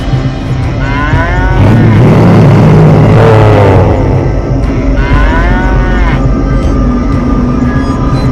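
A cow lows loudly in a Bengali ghost cartoon, a long drawn-out moo followed by a second call, close and dominant over a busy soundtrack with rumbling background noise.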